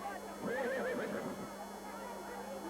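A horse whinnies loudly with a rising, wavering call at the Palio horse draw in Siena, where horses are matched to contradas, rising over a murmuring crowd and fading into background noise.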